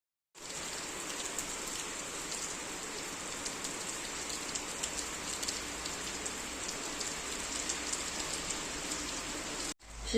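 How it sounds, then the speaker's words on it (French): Steady rain falls outside, a dense continuous patter and hiss heard alone at even loudness from start to finish, cutting off abruptly just before the end. "je trouve ça grave apaisant, le bruit de la pluie"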